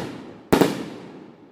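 A single loud firework rocket explosion cracks overhead, then rolls away in a long fading echo over faint background noise.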